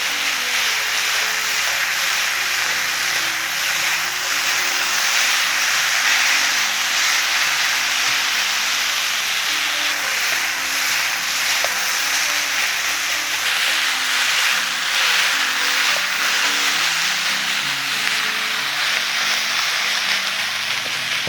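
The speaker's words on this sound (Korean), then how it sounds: "고기를 볶는데." Pork seasoned with ginger sizzles loudly as it is stir-fried in a pan for a pork bulgogi dish. The hiss is dense and constant and lasts the whole stretch, with no talking.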